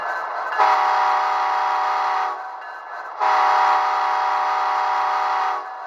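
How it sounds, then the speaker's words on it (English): Two long, loud blasts of an HO scale Union Pacific model locomotive horn from a small speaker, each sustained about two seconds with a short pause between, over a faint background hiss. "Function 2, horn."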